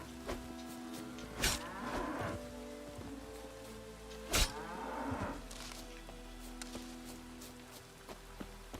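Cows mooing in The Witcher 3 video game, two long low lowing calls a few seconds apart over a steady rain-like hiss of ambience.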